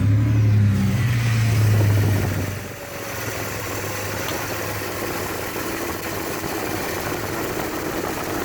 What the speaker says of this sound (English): you could hear when that fan kicks in